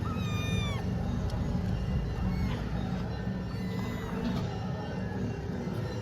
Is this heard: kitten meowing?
yes